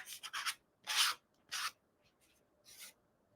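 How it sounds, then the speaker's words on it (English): Fine sandpaper rubbed along the edge of a paper card, heard as four or five short, soft scratchy strokes with quiet gaps between them, close up and alone. "if like you have a piece of pretty fine sandpaper, just take it and go like so."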